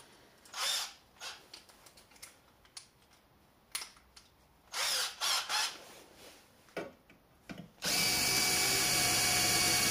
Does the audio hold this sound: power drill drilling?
yes